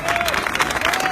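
Brief, steady crowd applause at a police officers' demonstration in Paris against anti-police violence, dense clapping throughout with a faint voice threading under it.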